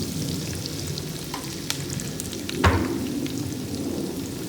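Onions frying in mustard oil in a pan, a steady close sizzle with a brief louder crackle near the middle and no talk.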